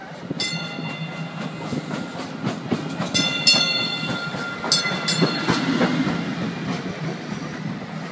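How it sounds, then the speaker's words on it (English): DART Blue Line light-rail train pulling into Rowlett station, a steady rumble of wheels on rail with metallic squeals and clicks above it, fairly close and continuous, no talking. "As more trains arrived"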